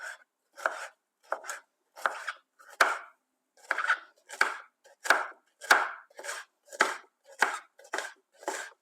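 A knife finely chops red pepper on a cutting board, about fourteen crisp strokes close by in an even rhythm, with no talking.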